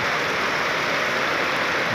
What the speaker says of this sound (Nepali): पानी आज धेरै पर्यो काठमाडौँमा पहिलोपटक होइन